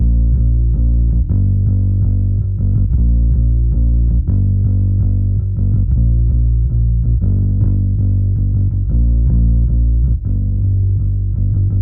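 A bass line from a post-punk beat made in FL Studio, a loud, deep, sustained riff that moves in a steady, repeating rhythm with no voices over it.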